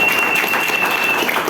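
Steady audience applause at a Telugu business-plan seminar, dense and continuous for the whole stretch, with a thin high tone running through it.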